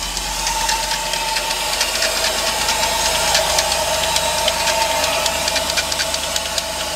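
A 1988 truck with a 6.0 LS swap running just after an early morning start, a steady close engine idle with rapid rattling ticks over the low hum.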